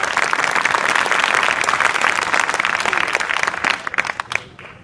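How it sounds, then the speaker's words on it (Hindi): A room full of students at Vidya Inter College, Hafizpur, Azamgarh applauds for themselves in a loud, dense, continuous burst of clapping that thins into a few last claps before fading out. "वो सारे बच्चे जो यहाँ बैठे हैं और अपने पैरों पर खड़े हैं वो अपने लिए ताली बजा लें"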